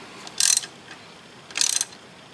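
Two short bursts of ratcheting as a ratchet wrench tightens the fuel filter bolt on a 2003 Saturn Ion, close and loud, about a second apart, with no talking.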